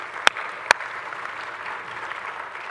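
Church congregation applause, a steady moderate patter of clapping, with two sharp loud knocks early on standing out above it.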